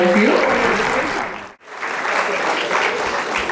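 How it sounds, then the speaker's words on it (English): Audience applause at a women entrepreneurs' awards ceremony, a dense steady clapping that cuts out briefly midway and then resumes at full strength. "Let's give her another huge round of applause, all of you."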